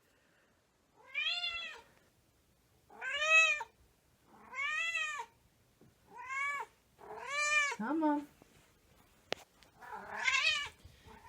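A hungry house cat meows for food, six drawn-out, rising-and-falling cries spaced a second or two apart, close and clear, with a person briefly speaking between them.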